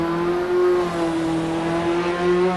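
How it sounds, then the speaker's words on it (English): A race car's exhaust in the Assetto Corsa Evo racing game drones steadily and loudly down a straightaway as one continuous engine tone with no talk. "Listen to that exhaust noise. It sounds incredible."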